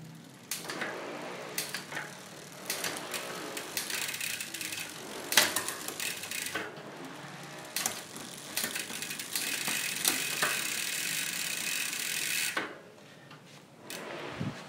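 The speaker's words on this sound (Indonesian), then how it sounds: "Nah jika sudah, kita coba tes shifting ya teman-teman." A bicycle rear derailleur is shifted through the gears on a repair stand, the chain clicking and ratcheting in bursts of close mechanical ticking separated by short pauses.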